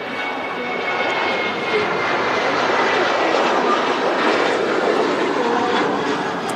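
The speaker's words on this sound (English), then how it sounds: "Now Ryanair heading off to Palma de Mallorca, 737-800." A Ryanair Boeing 737-800 taking off from Manchester Airport gives a loud, steady jet roar that holds at an even level throughout, with no talk over it.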